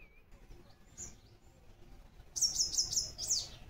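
Small birds chirping outdoors: a quick run of five or six bright, high tweets near the end, fairly close and clear, following quieter background and a faint distant call.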